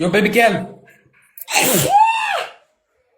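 A woman's loud, close sneeze, a sharp gasping intake followed by a forceful burst, coming right after a brief spoken line during a sneezing fit on a live stream.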